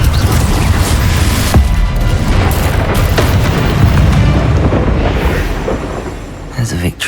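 Confringo fire spell explosions in the Hogwarts Legacy video game, a dense run of loud booming blasts and crashes that fill the whole clip and trail off near the end, with spell-casting voices mixed in.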